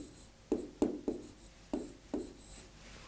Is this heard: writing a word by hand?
yes